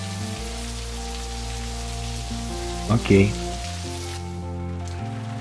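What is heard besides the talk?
rain falling in video game Necrobarista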